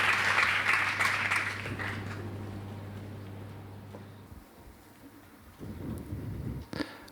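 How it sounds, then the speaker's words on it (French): Warm applause from a keynote audience in a conference hall, loudest at the start and thinning out over several seconds, with a low steady hum underneath and a few scattered claps near the end. "Je vous demande de les applaudir chaleureusement pour l'entrée"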